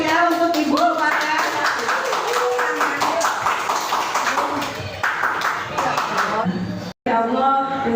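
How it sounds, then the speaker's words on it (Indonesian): Clapping from an audience at an Indonesian school event welcoming the vice principal, steady applause under a loud voice over a PA, briefly cut off before resuming. "Beri aplaus yang meriah untuk Ibu Wakil"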